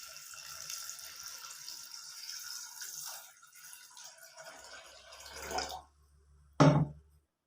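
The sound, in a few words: water poured into pressure cooker with chickpeas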